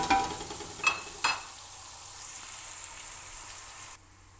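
Whole cardamom, cinnamon and bay leaf hit hot oil in a pan and sizzle steadily at close range, with a couple of sharp spits early on before the frying hiss cuts off near the end.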